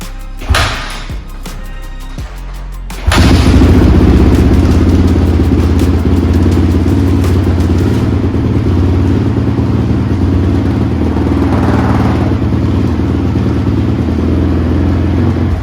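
A 2006 Honda CRF 450X dirt bike engine on choke, a few seconds of starting clatter, then a loud, steady, close-up idle with a fast, even thump that keeps running for the remaining twelve seconds.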